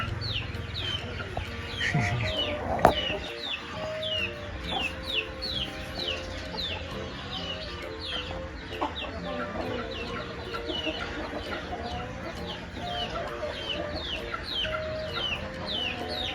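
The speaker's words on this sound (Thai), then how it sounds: "กำลังมองลูกไก่ กำลังหาเหยื่ออยู่" Chickens cluck repeatedly in short bursts nearby, a busy farmyard chatter that continues steadily, with a brief louder knock early on.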